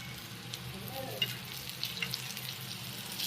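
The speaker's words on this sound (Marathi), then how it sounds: "तेल कसं उडतंय बघितलं का." Oil splatters and crackles steadily as veg fish fry cooks in hot oil over lowered heat, a continuous close sizzle with a few sharper pops.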